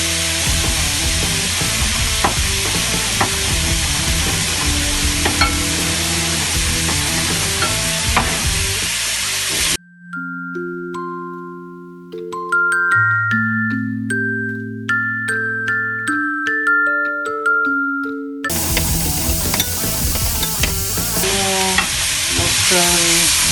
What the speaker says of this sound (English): Have to keep stirring, otherwise everything will burn.